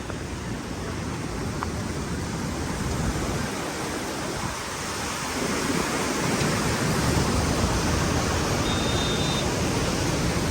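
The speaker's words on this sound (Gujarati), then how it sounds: "આજે અરનાવ નદી બંને કાંઠે વહી રહી છે જોઈ શકો છો તમે બહુ જ વિશાળ પાણી આવી રહ્યું છે અત્યારે" The flooded Harnav river in Khedbrahma, running bank to bank after heavy rain, makes a broad, steady roar of rushing water that fills the whole scene at constant strength, with no voices.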